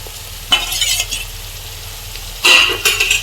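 Onion, ginger and garlic sizzle in a pan with tomato paste, green chilli and chilli powder, steady frying with two louder bursts of stirring and scraping near the start and end.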